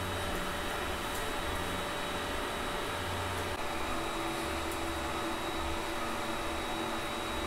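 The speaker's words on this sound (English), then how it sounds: "The only thing I can mostly hear is the fans" Cooling fans on a Geeetech Mizar S 3D printer whir in a steady, even drone with broadband hiss and a few constant tones, running without a break throughout and with no talk.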